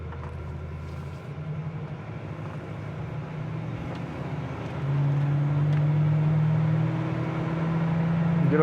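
A 1972 Oldsmobile Cutlass with a quiet stock exhaust cruises along, its engine a steady low hum and road drone inside the cabin that rises and grows louder about halfway through.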